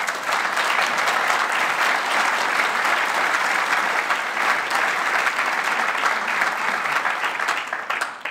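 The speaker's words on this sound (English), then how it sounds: "after this great applause" Sustained, loud audience applause after a keynote speech by a European Commission vice-president, dense clapping from a large hall holding steady for several seconds before starting to fade at the very end.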